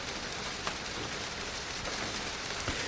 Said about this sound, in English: If this rain ever stops,